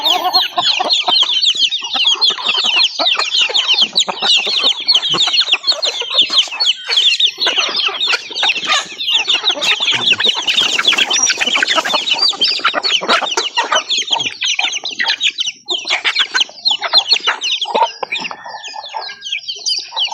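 Chickens cluck and chatter densely at feeding time on a small farm, a close, continuous flock noise with overlapping calls and occasional rooster-like notes, steady throughout with no talk.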